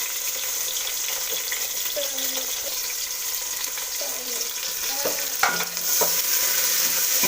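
Tomato frying and being stirred into fried onions for a traditional fish curry, a steady bright sizzle running throughout with occasional scrapes and clinks of the spoon in the pan.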